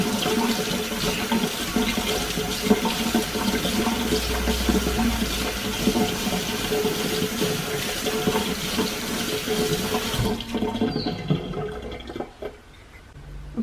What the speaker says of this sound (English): so let's give our rosemary a bit of a wash.